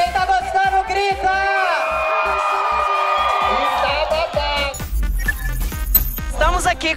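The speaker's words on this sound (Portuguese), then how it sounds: "Quem tá gostando, grita!" A crowd at an LGBT+ pride parade in Belo Horizonte screams and cheers in a loud, sustained swell of high voices that rises and then breaks into scattered shouts, with a voice speaking over part of it.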